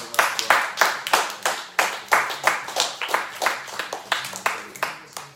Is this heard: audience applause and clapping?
yes